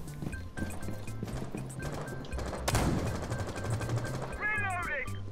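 Gunfire from the Rainbow Six Siege video game, bursts of shots crackling over a busy mix of game sounds, with players talking throughout.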